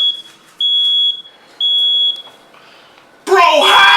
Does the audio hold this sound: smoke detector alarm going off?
yes